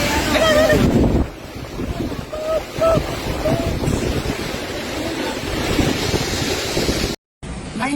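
Hurricane Melissa's winds tear through Jamaica near New Hope at up to 295 km/h. Loud roaring gusts batter the microphone in a constant rushing wash that swells and eases, then cuts out briefly near the end.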